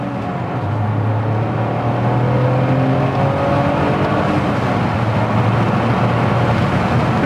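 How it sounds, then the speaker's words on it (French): A Toyota Yaris GR pulls hard under acceleration, its engine note rising and then dropping as it shifts up through the gears, loud and continuous from inside the car. "Tu sais que là, j'accélère vraiment. Je passe les rapports plutôt que ce qu'il faut."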